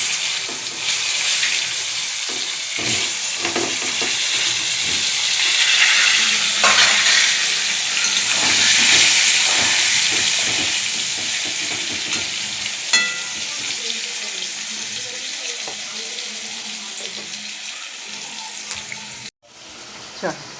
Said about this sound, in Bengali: একটু হলুদ, দেবো এবার আলু, লাল লাল করে ভেজে নিয়ে দিলাম।